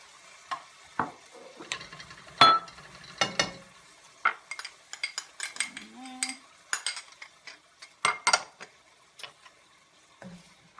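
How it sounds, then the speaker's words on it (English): Utensils scrape and clink against a pan in irregular strokes as chow mein noodles are stirred, with a light sizzle underneath and no talking. "Give it a stir."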